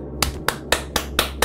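Six sharp, evenly spaced claps ring out in a Garry's Mod horror map, crisp and close with a steady rhythm and no talking.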